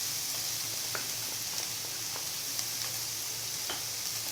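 Thinly sliced onion frying in oil in a pan, a low steady sizzle with scattered light pops and taps, close but fairly quiet.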